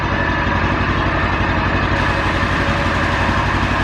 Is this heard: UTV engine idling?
yes